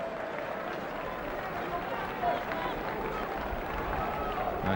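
Steady roar of a crowd of just over 17,000 at Selhurst Park during a top-flight Crystal Palace football match, a continuous wash of distant voices with a brief swell, sitting under commentary.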